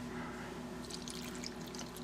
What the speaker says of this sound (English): Now I'm just going to pour 2/3 cup of Cognac.